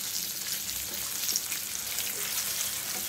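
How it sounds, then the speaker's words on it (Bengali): Pangas fish pieces coated in flour, turmeric and salt crackle in hot oil with a steady, dense sizzle that stays close and even throughout, with no voices. "আমি গরম তেলে ছেড়ে দিচ্ছি। তারপরে বাদামি করে ভেজে নিব।"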